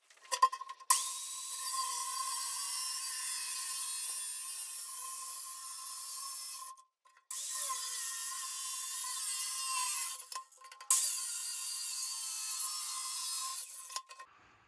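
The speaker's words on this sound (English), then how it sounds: "Skilsaw Outlaw metal cutting circular saw set up to cut through this 1/2-inch plate." A Skilsaw Outlaw metal-cutting circular saw shrieks through 1/2-inch steel plate in three long, continuous cuts separated by brief pauses, harsh and high-pitched at close range.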